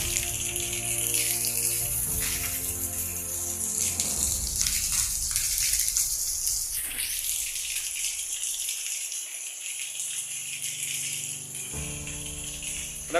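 Rainwater rushes and splashes in a steady, continuous flow in front of a house in Sylhet, with a low tonal hum rising and fading near the beginning and end.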